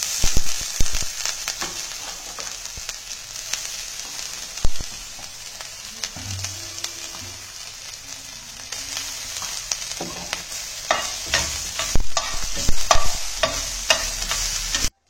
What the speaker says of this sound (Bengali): এখানে হচ্ছে মশলা, আদা ফ্রাই হচ্ছে